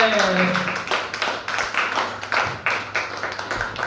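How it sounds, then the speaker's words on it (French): A church congregation claps together, a steady patter of many hands close by, with a brief voice at the start and the applause carrying on. "Acclame bien, acclame bien."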